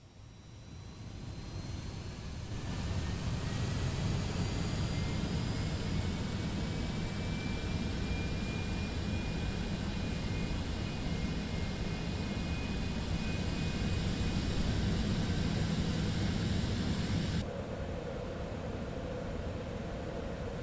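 A Citation X jet engine lights off in the MSFS 2024 simulator, a loud steady whooshing roar with a rising whine that holds for about fifteen seconds, then drops to a quieter tone near the end.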